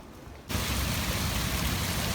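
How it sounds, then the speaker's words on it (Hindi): Heavy, steady rain pours over flooded streets in Hyderabad, a dense continuous wash of noise that swells abruptly after a quieter first half-second and then holds loud and even throughout. "तो मुसलसल बारिश की वजह से लोग परेशान भी हैं।"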